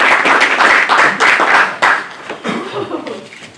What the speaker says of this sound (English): That's the only presentation that will get applause.